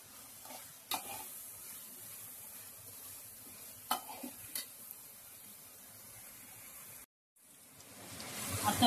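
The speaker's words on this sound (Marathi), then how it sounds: "आता मी कांदा, टोमॅटो आणि मिरची या तेलामध्ये चांगली फ्राय करून घेते." Onion, tomato and chili frying in oil in a pan for spinach bhaji, a soft steady sizzle with a few sharp stirring clacks, briefly cutting to silence before the sizzle returns louder.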